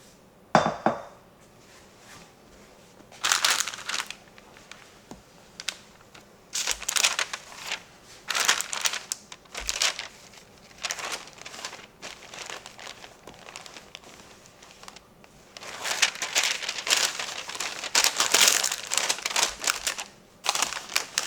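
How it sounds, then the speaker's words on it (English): Goat's milk soap in a mold is covered with parchment paper and wrapped in a towel, making scattered crinkling, rustling and soft knocking sounds in irregular bursts with quiet pauses between. "put a piece of parchment on top, and then I'm going to go ahead and wrap it in the towel"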